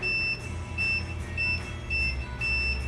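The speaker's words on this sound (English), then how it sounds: "so we are looking for the beep." A multimeter gives short, high continuity beeps while testing corroded wiring on a C5 Corvette. About five brief tones repeat roughly every half second over a low rumbling background hum, and no one speaks.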